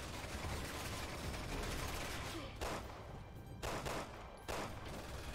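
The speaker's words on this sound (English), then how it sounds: "Can you do something about the machine gun?" A machine gun turret fires in the video game Resident Evil 6, dense continuous automatic gunfire broken by a few short gaps, fairly close and loud.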